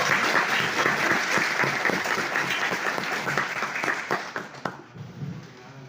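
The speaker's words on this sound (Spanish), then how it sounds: "Vamos a darle un fuerte aplauso" An audience at an academic economics lecture gives the invited speaker a loud, sustained round of applause filling the room, with the clapping thinning and trailing off near the end.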